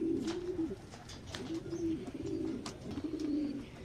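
Pigeons coo repeatedly in a loft during winter flight training, low throaty rolling calls overlapping from several birds at close range, with faint chirps and shuffling around them.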